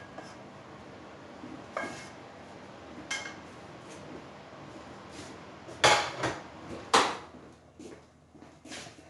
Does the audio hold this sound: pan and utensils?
yes